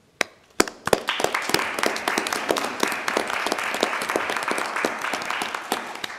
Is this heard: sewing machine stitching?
no